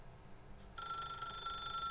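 A telephone rings in the video game The Stanley Parable, its steady electronic tone entering abruptly partway through and holding at a clear, even level over quiet room ambience.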